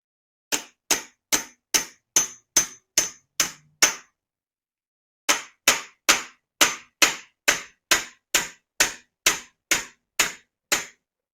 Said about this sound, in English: you hit that with the hammer and it drives it down into the steering tube and it swages it in place